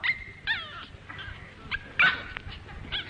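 Dog whimpering and yipping as a radio play sound effect, a series of short high whines and yelps at a moderate level over a faint background hiss.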